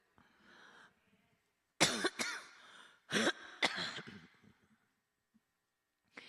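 Repeated chesty coughing up close from a person preaching a church sermon: a faint breath, then two loud fits of rough coughs separated by a brief pause, fading to silence.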